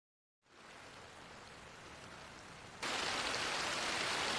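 Steady rain hisses after a silent start, then suddenly grows heavier and louder partway through, a dense wash of falling water with no voices.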